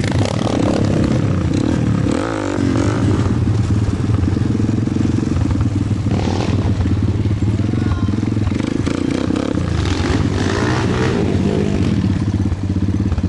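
A Kayo pit bike rides hard enduro terrain, its loud, close engine revving and surging continuously with clattering and scraping over rough ground.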